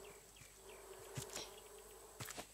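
Bees buzzing in the Raft survival video game, a faint steady drone with a few brief louder swells near the end, no talk over it.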